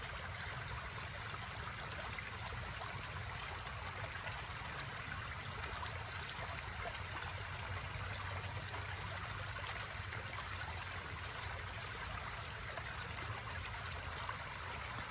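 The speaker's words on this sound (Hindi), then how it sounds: "जैसे वहाँ पे पानी गिर रहा है तो उसकी एक आवाज़ आ रही है" Water falling and trickling in a steady, faint stream outdoors, a constant soft wash with no breaks and a thin high hiss over it.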